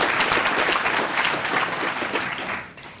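Sustained audience applause at a legislative session gathering, a dense, even wash of many hands clapping that holds steady for about three seconds before tapering slightly at the end.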